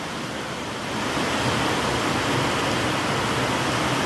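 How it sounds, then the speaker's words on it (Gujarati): Heavy rain pours down in a steady, dense hiss that thickens after the first second and then holds constant and loud. "અત્યારે વરસાદ ચાલુ છે, તમને બતાવું."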